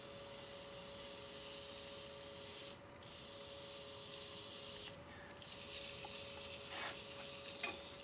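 Steady fine sandpaper rubbing on a shaving brush handle at high grits around 1,500, a soft continuous hiss with brief pauses and strokes, close and quiet with a faint tonal hum underneath.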